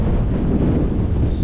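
Strong, steady wind buffets the microphone on open Dartmoor moorland as a storm moves through, a continuous low roar with no break or voices.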